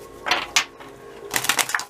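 Several quick bursts of papery riffling as an oracle card deck is shuffled, two short ones followed by a denser flurry of card flicks, close and fairly quiet.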